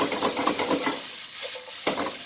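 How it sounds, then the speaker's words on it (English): Chicken and broccoli being tornado stir-fried in a hot pan with black pepper and sesame oil, a loud close sizzle with rapid scraping and tossing strokes of a utensil on metal, easing briefly before a final clatter. "We call this tornado stir."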